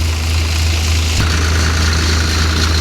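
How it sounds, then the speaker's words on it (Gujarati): A Swaraj 744 tractor engine runs a thresher during a cumin harvest, with a steady, loud low rumble and throb, one brief knock partway through, the drone otherwise unchanging. "ટોલીમાં જ ભરીને આ પડામાં અહીંયા આવી ગયું છે ટ્રેક્ટર"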